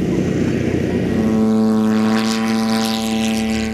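MQ-9 Reaper military drone in flight, a steady propeller-driven engine drone with a rising whine that sharpens midway, loud and continuous throughout with no talking.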